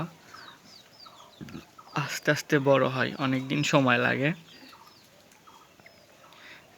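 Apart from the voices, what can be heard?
free-range native village chickens clucking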